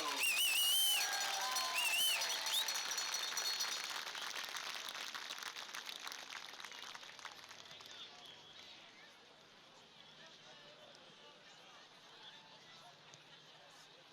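A stadium crowd at a Heidelberg University versus Marietta College homecoming football game cheers and applauds. A whistle sounds early on, then the broad clapping and roar gradually fade to a lower murmur.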